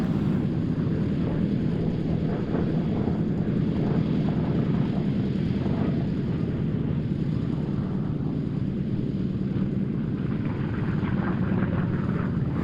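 A SAAB B17 aircraft with a 1,065-horsepower Pratt & Whitney engine at an air show, heard as a steady, loud engine drone mixed with wind noise that stays constant throughout.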